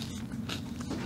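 A short crunchy bite into BBQ-flavor coated crispy peanuts, close and dry, with a couple of quick crackling crunches in a brief burst.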